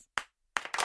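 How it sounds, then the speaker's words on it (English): Hands clapping close by, a single clap followed by a short pause and then a quick run of several claps, with no talk. "Sorry, a little slow on the applause there."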